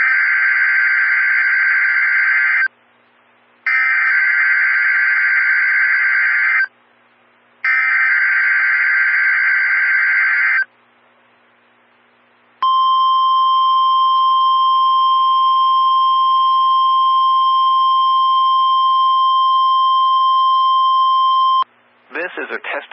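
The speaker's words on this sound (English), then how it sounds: "This is a test of the NOAA radio warning alarm device and the emergency alert system." A NOAA weather radio emergency alert test sounds three loud, steady two-tone alarm bursts separated by short gaps, then one long sustained single-pitch warning tone, ending abruptly with a brief electronic burst.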